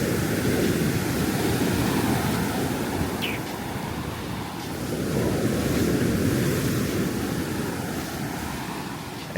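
Ocean surf pounds Kamala Beach in Phuket, Thailand, in a loud, continuous roar of breaking waves that swells and eases. Gusting wind buffets the microphone throughout.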